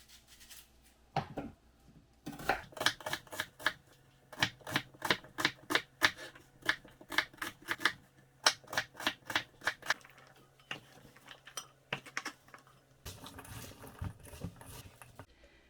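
A knife dices onion into cubes on a cutting board, with rapid runs of crisp close chops in bursts and short pauses between them, and no talking.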